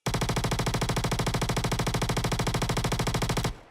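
PTU .22 firing on full auto in a video game, a steady machine-gun rattle of evenly spaced loud shots sustained for over three seconds before cutting off abruptly.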